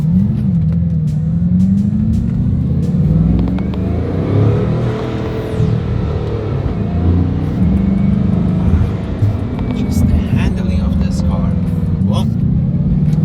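A Hermes-edition Bugatti Chiron drives by with a deep, steady engine rumble and road roar. The sound stays loud and continuous and swells slightly now and then, with a few light clicks over it.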